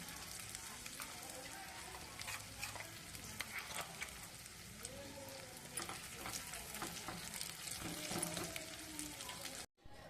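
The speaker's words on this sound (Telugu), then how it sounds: "ఇప్పుడు ఈ మిక్సీ పట్టిన మామిడికాయ పచ్చడి ఈ పోపులో వేస్తున్నాను." Ground raw mango chutney is added to hot oil tempering in a pan, giving a steady, loud frying sizzle with crackles and stirring scrapes throughout, cutting off abruptly near the end.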